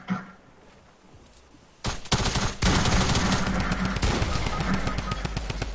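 Rapid automatic gunfire in the shooter game Fortnite: quiet at first, then a loud burst erupts and keeps rattling close up in fast repeated shots until the end.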